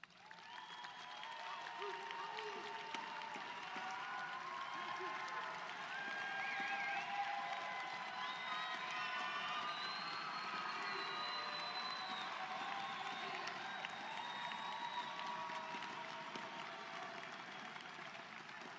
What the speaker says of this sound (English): give your family and friends a rounding applause